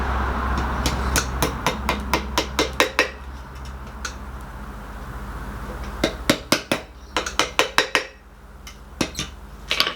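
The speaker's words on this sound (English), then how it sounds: "So now, when we're bending the locking lug," Sharp metallic hammer strikes bend a metal locking lug for a rice chest handle, arriving in quick irregular bursts of close, ringing blows with short pauses between groups.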